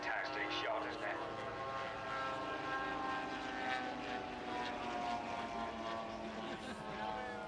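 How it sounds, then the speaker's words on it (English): A single-seat long-range propeller fighter plane flies past at an airshow, its engine giving a steady, droning roar that holds throughout at a moderate distance. "Single seat long range fighter, there it is, in the lead, and away he goes."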